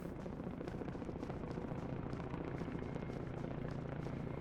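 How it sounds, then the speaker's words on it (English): A helicopter in The Last Ski Trip, a snowy mountain skiing video game: a steady, dense rotor drone that stays even throughout, with no talk over it. "Is that a helicopter?"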